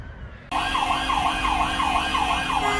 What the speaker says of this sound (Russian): Ой, что-то опять скорая помощь.